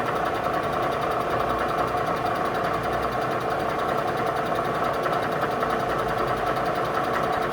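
A Bridgeport milling machine spins at 575 RPM while cutting, giving a steady, even mechanical whir with a rapid rhythmic chatter, heard up close and fairly quiet with no talking.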